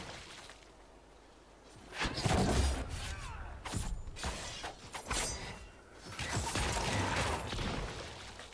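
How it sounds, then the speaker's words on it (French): Explosions in the Dragon Age Inquisition game: repeated crashing, shattering bursts with metallic rattles, arriving in clusters of loud impacts between quieter gaps; no speech. "Ah, ça explose dans tous les sens."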